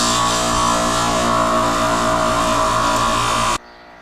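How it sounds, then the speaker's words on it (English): A buffing wheel on a power tool scours the wheel hub surface where the brake disc seats on a Honda, giving a steady, loud, close whirring grind that stops abruptly near the end. "I'm gonna clean up the surface where the disc sits with this prime buffing wheel"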